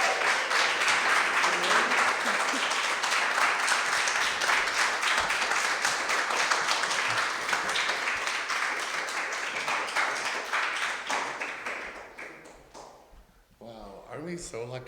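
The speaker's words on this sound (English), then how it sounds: "Just another round of applause for the poets and yourselves for being here." Audience applause after a poetry reading: a dense, sustained wash of clapping that holds steady for about twelve seconds, then thins out and fades to scattered claps.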